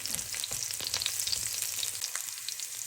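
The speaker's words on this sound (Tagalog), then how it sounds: "ginisa ko na yung bawang at onions natin guys" Garlic and onions sautéing in a frying pan give a steady, close sizzle and crackle with scattered pops throughout, and there is no talking.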